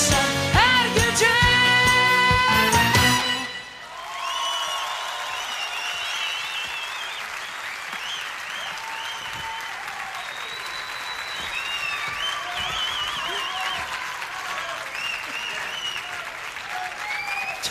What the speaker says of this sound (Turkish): Zaten alkışlar seni buldu.